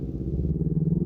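A Kawasaki Ninja 250 FI motorcycle engine throbs during a throttle test, a low pulsing burble close by that rises slightly in pitch over about a second, with no talk.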